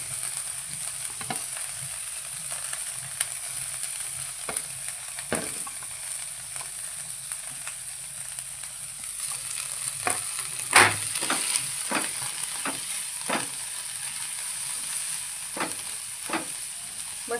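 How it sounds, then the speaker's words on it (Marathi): Chopped vegetables for corn cutlets sautéing in a spoonful of oil, giving a steady bright sizzle and hiss throughout, broken by repeated clicks and scrapes of stirring in the pan. "मी एक चमचा ऑइल घेतलेलं आहे त्याच्यावरच आपल्याला थोडंसं परतून घ्यायचं आहे"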